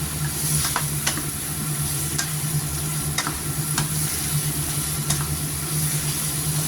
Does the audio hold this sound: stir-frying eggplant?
yes